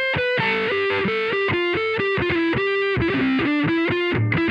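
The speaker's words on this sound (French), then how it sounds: "Une distorsion nettement plus prononcée avec un son plutôt rythmique." Electric guitar through a Vite distortion pedal with heavy, nasal-tinged gain, playing a chugging rhythmic riff of short repeated chords, loud and close with no talking.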